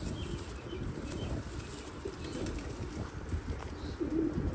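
Golden-winged pigeons coo low and steadily nearby, with occasional wing flutters and faint chirps in a busy loft, without talk.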